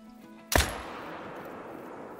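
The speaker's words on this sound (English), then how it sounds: "So we're gonna finish it off with a nice 300 yard shot" A single loud rifle shot at a whitetail buck from about 300 yards in the hunting game Call of the Wild, one sharp crack after a quiet lead-in and followed by a long fading echo.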